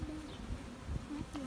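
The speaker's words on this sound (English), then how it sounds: "See his wings buzzing?" A drone honeybee buzzes its wings at a beekeeping farm, a fluttering hum that rises and falls in short bursts, close but fairly quiet, without speech.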